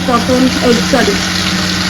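Fish fries in a wok, giving a steady, close sizzle that lasts the whole moment without any break.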